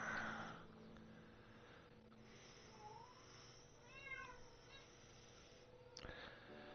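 A cat in a kitchen lets out a few short, faint, echoing meows, drifting in and out over quiet room noise, with a louder knock near the end.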